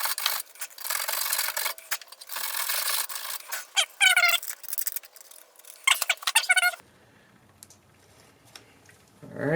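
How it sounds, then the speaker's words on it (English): Sandpaper rubbed by hand over a bolt and metal frame during a Ford Mustang alternator replacement, close irregular rasping strokes in bursts with squeaky scrapes, then a quieter stretch before one last stroke. "we're going to go ahead and sand this"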